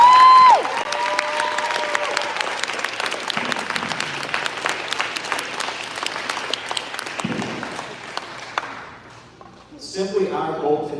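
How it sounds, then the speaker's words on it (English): Applause for a speaker named Titus at a summit, a crowd clapping steadily after a brief tone at the start, with talk and cheering mixed in before the clapping fades out toward the end. "let's give Titus a round of applause as well"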